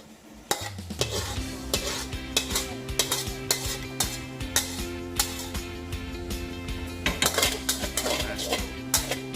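Food is tossed in a hot pan with repeated metal clanks of a utensil scraping and striking the pan over a constant hiss and low hum.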